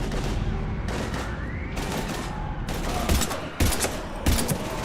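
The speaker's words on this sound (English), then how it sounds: "I've got Lieutenant Vega with me, but we're taking heavy fire." Rapid bursts of gunfire in the Mass Effect 3 video game, loud overlapping volleys and heavy impacts firing continuously through a combat scene.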